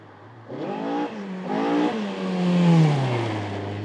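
Toyota Corolla two-wheel-drive rally car on a Hawke's Bay gravel stage, its engine revving hard through three rising bursts with gear changes between, close and loud, no talk.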